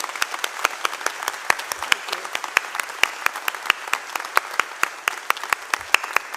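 Graduation ceremony audience at Ulster University in Derry applauding graduates' supporters, a sparse, distinct patter of individual claps spread steadily across the hall, moderately distant and without voices.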